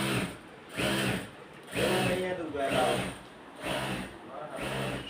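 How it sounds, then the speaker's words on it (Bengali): Machines run in the small machine room of a decorator fabric factory, whirring in loud bursts that repeat roughly once a second. A voice talks over the mechanical cycling. "এই হলো কারখানা, ছোট্ট কারখানা। কাজ চলতেছে ইনশাল্লাহ, মেশিন রুম।"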